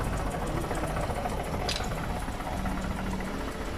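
A car engine idles with an exhaust leak. A steady, close mechanical drone runs throughout, with an uneven low puffing beneath it and no speech.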